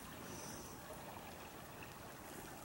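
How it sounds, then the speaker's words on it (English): Water waves lapping near Honey Creek, a soft continuous wash of moving water, faint and steady with no voices. "The sound of the water is amazing."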